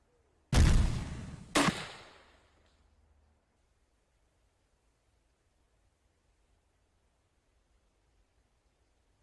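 Two sharp gunshots from a weapon in Cataclysm: Dark Days Ahead, a loud crack followed a second later by another, each with a short fading tail, then near silence.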